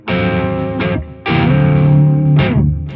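A distorted electric guitar plays sustained crunchy chords, cut off and restruck a few times, loud and close with no talking.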